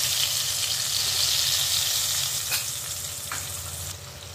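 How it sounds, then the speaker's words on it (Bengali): Spice mixture sizzling as it is added to frying potatoes in a pan for a Bengali mochar ghonto, a loud steady crackling fry with occasional stirring scrapes. "এবার মশলা মিশ্রণটা দিয়ে দিচ্ছি"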